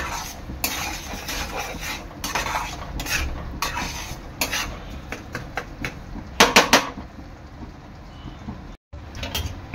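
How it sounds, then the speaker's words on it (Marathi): Semolina being roasted in ghee for prasad-style sheera, with a spoon scraping and stirring against the pan in repeated clinking strokes, a few sharper knocks near the end, and no talking. "2 ते 3 मिनिटं चांगला आपण तुपामध्ये रवा भाजून घ्यायचा आहे"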